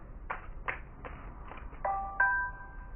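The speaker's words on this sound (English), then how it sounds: "Sorry, that's my phone." A mobile phone ringtone plays as a series of short rhythmic bursts, then settles into sustained electronic chime tones near the end, fairly faint and with no talking over it.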